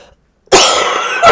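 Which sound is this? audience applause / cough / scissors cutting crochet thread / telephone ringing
cough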